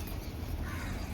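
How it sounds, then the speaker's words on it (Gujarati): Crows caw loudly and harshly nearby in a brief burst during a daily outdoor household routine. "ઉપર કાગડા કાઢ્યા છે અને આવી ગયા છે સેવો ખાવા માટે"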